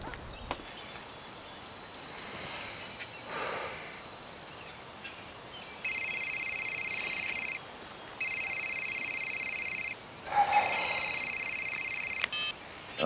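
A telephone rings indoors in two long electronic trilling bursts separated by a short pause, loud and close, over a quiet room with faint shuffling before and a brief rustle between rings.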